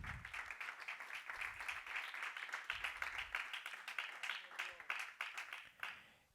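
A church congregation claps during a Spanish-language sermon on joy: a dense, steady patter of many hands that keeps going for several seconds at moderate loudness, with faint voices underneath.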